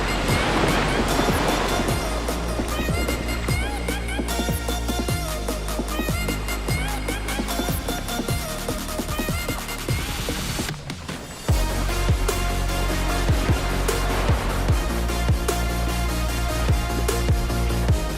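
Ocean waves wash onto Om Beach at Gokarna, a steady surf roar with repeated breaking surges, heard close and continuous with a brief dip partway, no voices.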